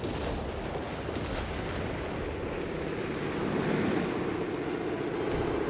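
Heavy artillery fire in the World War II strategy game Company of Heroes 3, a dense, continuous low rumbling roar of distant barrages blending into one another throughout, with no voices.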